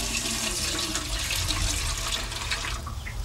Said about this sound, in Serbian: I onda tu mešavinu sipam kroz ovu cediljku u pumpu.